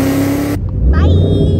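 A 2011 Shelby GT500 engine rumbles loud and close after a sharp cut in the sound, its deep throaty note swelling as it revs up and holds.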